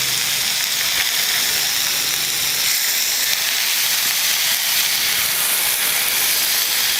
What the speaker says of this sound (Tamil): மீன் பார்த்தீங்கன்னா வேறு லெவலில் வெந்துட்டுருக்கு.